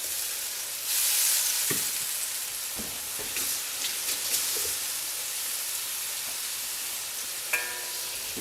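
Broccoli hitting a hot wok while cooking beef with broccoli, giving a steady, moderately loud sizzle with a brief burst of hiss as it lands, followed by a few light clatters of stirring.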